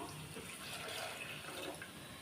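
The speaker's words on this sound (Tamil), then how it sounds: "1/2 கப் அளவு தண்ணி சேர்த்துக்கலாம்." Steady rushing of water poured into a pan with jaggery, a continuous splashing flow lasting a couple of seconds with no voices.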